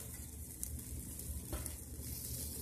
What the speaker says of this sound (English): just stir it around really gently until all the cheese melts and everything is cooked through